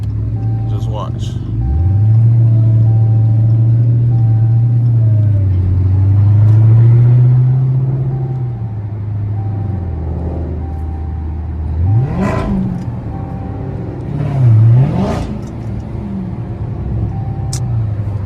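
A Dodge Challenger Hellcat Scat Pack rumbles during a night drive in Atlanta, its deep engine note swelling into a loud rev early on, settling into a steady low drone and then surging again in sharp bursts, with people talking inside the car.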